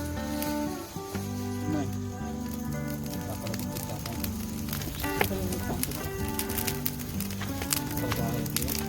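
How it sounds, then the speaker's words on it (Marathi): Crackling wood fire burning under a clay pot of chicken popti cooked outdoors at night in a Konkan village, a steady dense popping and hissing close by, with distant voices faintly underneath. "आता मजबूत लागली आग"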